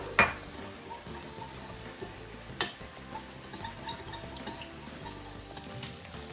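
Chili flakes, sesame oil and soy sauce being stirred together in a bowl, with a soft clink of utensil near the start and again midway, then quiet low mixing sounds.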